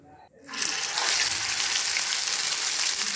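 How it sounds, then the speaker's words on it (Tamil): Mutton cutlet frying in hot oil in a small pan, a loud sizzle that bursts in after a brief quiet start and holds steady and close to the end. "சூப்பராக கட்லெட் வெந்துட்டுருக்கு"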